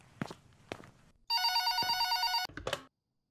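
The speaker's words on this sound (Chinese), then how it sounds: "有电话。" A telephone in a horror video game rings once in a loud, sustained trill lasting about a second, with soft footsteps and shuffling before and after.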